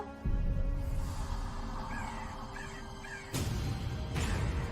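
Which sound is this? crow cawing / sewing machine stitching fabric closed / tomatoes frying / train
crow cawing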